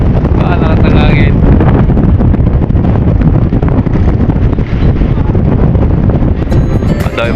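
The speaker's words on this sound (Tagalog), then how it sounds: "Lakas ng hangin." Strong wind buffets the microphone at a seaside port where passengers from Marinduque arrive, a loud, roaring rumble throughout with choppy sea conditions, and a voice talks over it.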